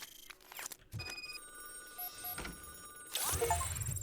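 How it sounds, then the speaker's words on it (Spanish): A telephone rings inside the video game RoboCop: Rogue City, repeated bell-like trills over a low game ambience, growing fuller toward the end. "Están llamando por teléfono."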